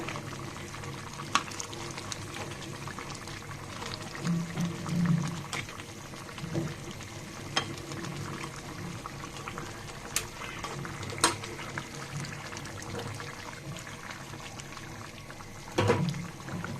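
Hot water is poured into simmering beef for Mejbani-style curry made with spice mix, giving a continuous bubbling, splashing wash with small clinks throughout.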